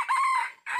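A single short rooster crow rings out loud and close, a rising call that dips briefly before a final burst, with no voices over it.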